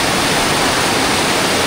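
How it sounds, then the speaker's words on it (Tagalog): A waterfall's rushing water pours in a dense, loud, unbroken roar that fills the whole stretch, close by and with no voices. "Tumaragasa talaga yung tubig."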